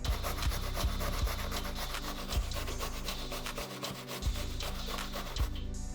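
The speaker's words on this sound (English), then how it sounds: "Now I'm gonna use a box grater to cut up this cucumber." Cucumber is rubbed up and down a box grater in continuous wet, scraping strokes with occasional knocks of the grater, close and fairly loud, with no speech.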